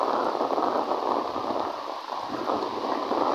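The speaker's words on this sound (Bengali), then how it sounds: "কি পরিমাণ বৃষ্টি" Heavy rain falls in a steady rushing wash, close and continuous, with a dense mid-range roar that swells slightly and dips briefly midway.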